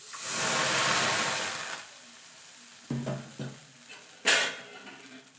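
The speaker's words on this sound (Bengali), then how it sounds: "এবার এইভাবে আমি বাকিগুলো সব ভেজে নেব।" Chitol pitha batter fries in a wok with a loud steady sizzle at first. Then a ladle stirs and scrapes against the metal in a few separate clanks as the hiss fades.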